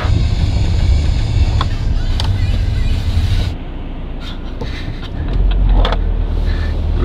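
An Opel Vectra with a snapped timing belt pulls away while towed on a rope, a close, steady rolling car rumble and road noise that drops briefly then rises again, with some interior rattles.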